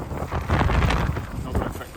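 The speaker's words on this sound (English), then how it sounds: "Wow, it is windy." Gusty outdoor wind buffets the microphone, a loud low rumbling roar that swells and eases over two seconds, with no clear words.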